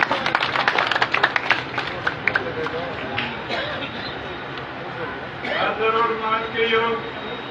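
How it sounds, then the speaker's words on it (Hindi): A crowd applauds at a Congress party election rally in Karnal, with a brief burst of scattered claps at the start that gives way to someone speaking over a public address system. "और तालियों से स्वागत कीजिए"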